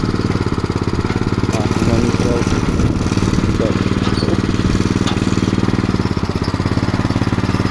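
Cold-started petrol walk-behind tractor (motoblok) idling steadily and loudly up close with a dense, fast chugging pulse throughout, never pausing.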